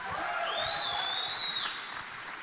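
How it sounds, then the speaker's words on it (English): Conference audience applause for panelists at a tech event, a fairly faint, steady wash of clapping with a high whistle over it, fading slightly toward the end. "Can you try to give a warm round of applause for the panelists?"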